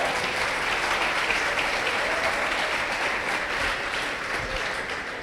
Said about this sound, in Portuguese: Pode aplaudir o Senhor Jesus por isso.